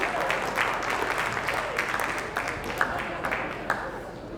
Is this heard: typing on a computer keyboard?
no